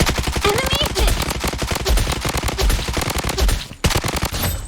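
Video game rifle gunfire with a 75-round magazine, loud rapid automatic bursts in a dense rhythmic stream with a brief pause near the end.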